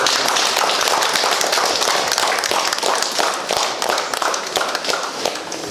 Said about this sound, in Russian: Тоже аплодисменты.